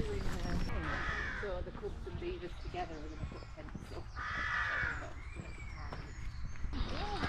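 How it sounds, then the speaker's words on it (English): Crows cawing repeatedly along a lakeside hiking trail in the Lake District, harsh calls coming in bursts over steady footsteps, with people talking nearby. "All the birds."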